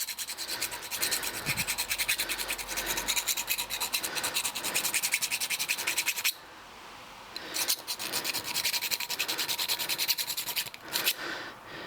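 Hand filing or scraping to clean up the inside of a sheared bicycle bottom bracket shell, a continuous close rasping that pauses briefly and then resumes in shorter bursts.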